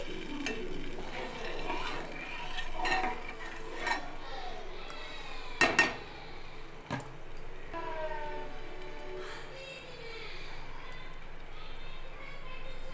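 A spoon stirs turmeric into boiling tamarind water in a pot, with clinks against the metal and a sharp knock near the middle, while someone speaks over the stirring.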